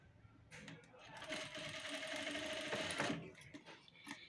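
A sewing machine stitches a cross seam across fabric for a katori blouse panel, with one continuous mechanical whir of about two and a half seconds that starts and stops abruptly, close and moderately loud.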